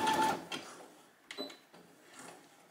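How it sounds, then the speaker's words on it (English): A sewing machine runs a few short zigzag stitches along the edge of a fabric scrunchie, in brief mechanical bursts separated by quiet pauses. "I'm gonna zigzag on the other side. Just gonna do a few zigzags."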